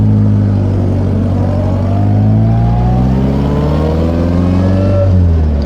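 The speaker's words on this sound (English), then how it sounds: "The engine revs quite well." A 1961 Morgan Plus 4 engine revs steadily and loudly up close, its rising harmonic tone climbing gradually over several seconds with a continuous throaty drone and no speech.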